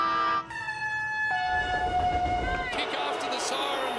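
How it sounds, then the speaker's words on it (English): A loud, sustained siren sounds at the end of a football game at a stadium in pouring rain, its steady tone shifting pitch partway through before giving way to a broad roar of crowd noise. "The siren's going to sound."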